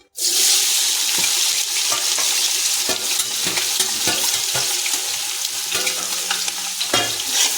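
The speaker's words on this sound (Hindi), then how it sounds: "ये देखिए तेल हो गया है, अब इसमें डाल देंगे ये प्याज" Onions tipped into hot mustard oil for chicken biryani erupt into a loud, dense hiss that sets in suddenly and holds steady, close up, with faint scraping clicks and no talking.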